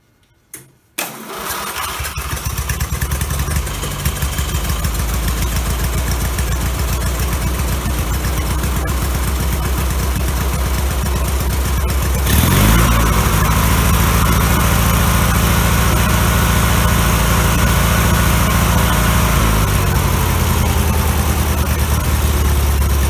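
The engine of a 1990 Murray lawn tractor starts after a couple of brief attempts, then runs steadily and loudly close by with a buzzing drone, rising slightly in pitch partway through, with no voices.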